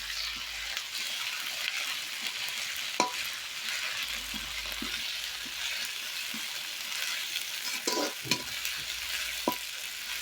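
Ginger garlic paste frying in a pan, a soft steady sizzle with occasional scrapes and taps of a stirring spoon, close but fairly quiet.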